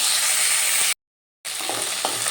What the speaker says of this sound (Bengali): এবার ফুলগুলো আমি ভালো করে ভেজে নেব